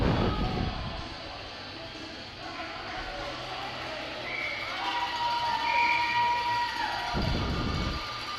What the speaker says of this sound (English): Pretty good crowd here at the BMO Center tonight.